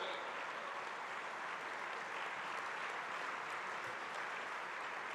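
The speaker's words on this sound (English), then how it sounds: "I request once again everyone in the audience to rise in their seats and give a big round of applause" Steady, dense applause from a large seated audience at an innovation conclave's valedictory session, heard from a distance and unchanging in level for the whole stretch, with no talk over it.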